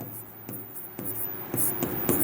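Chalk or marker writing out a maths solution on a classroom board, several short scratchy strokes in quick succession, close and clear, with no talking.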